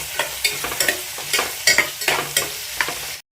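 Sliced onions with a little salt sautéing in a pressure cooker for chicken kurma: close, crisp sizzling punctuated by regular spoon strokes scraping the pan, about a dozen stirs before the sound cuts off abruptly.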